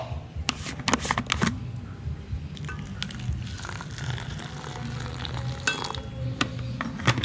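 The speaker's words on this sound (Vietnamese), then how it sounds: "các bạn dùng muỗng các bạn trộn cho nó đều ra cho mình luôn" A spoon stirs and mixes a fishing bait blend of bird bran and boiling water for carp and other freshwater fish, giving close, irregular scraping and gritty rustling that continues steadily with a few sharper clicks.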